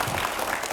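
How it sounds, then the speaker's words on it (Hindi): A brief burst of audience applause at a televised Hindi political interview show, steady dense clapping from a crowd throughout the short moment. "जोरदार तालियां हो जाएं रैपिड फायर राउंड के लिए"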